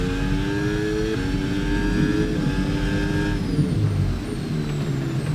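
Formula 1 race car in the F1 26 video game, the Cadillac team car at Barcelona, its engine screaming at high revs in a steady loud drone with rising and shifting pitch through gear changes, heard alone.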